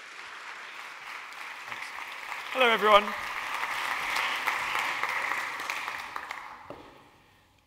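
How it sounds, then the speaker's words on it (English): Audience applause at a large-venue company keynote welcoming the CEO onto stage, a broad sustained crowd clapping that swells, carries on for several seconds and then fades out, with a man briefly greeting the room over it. "Big round of applause"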